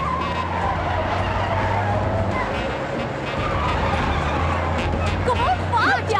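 Cars race and skid in a movie chase, steady engine roar with tire squeals near the end, under a continuous bed of noise and background voices.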